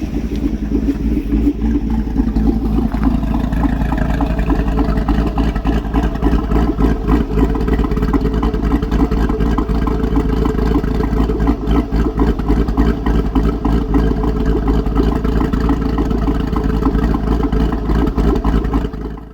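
A Chevrolet C6 Corvette engine with a new cam idles outside, a loud, steady, choppy rumble throughout with no talking.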